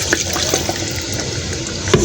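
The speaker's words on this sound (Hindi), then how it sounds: "तो अब हम इसमें जितनी हमें ज़रूरत है उतना पानी डालेंगे।" Water poured from a glass into a pot of cooking masala, a steady broadband splashing and trickling that runs through the whole moment, with a small clink near the end.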